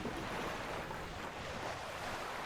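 Ocean waves wash as a faint, continuous surf sound, an even broadband rush with slight swells and no distinct breaks, heard alone without any voices.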